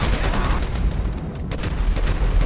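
Combat MG machine gun fire in Grand Theft Auto 5, heard as dense, booming bursts of rapid shots that run together, with a brief lull before the firing resumes.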